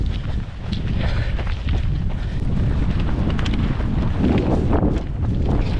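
Strong headwind buffeting a runner's microphone during a half marathon on salt flats, a loud continuous roaring rumble with gusting swells throughout, no voices.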